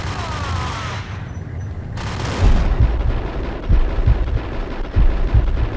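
Heavy gunfire with repeated booming shots and sharp bursts, loud and close, in an action video game firefight in Max Payne, with no talking.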